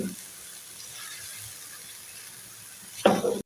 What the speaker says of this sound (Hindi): अब चिकन को अच्छी तरीके से भूनेंगे, चिकन का कच्चापन दूर हो जाए।